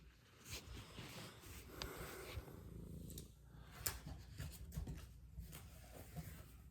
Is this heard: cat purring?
yes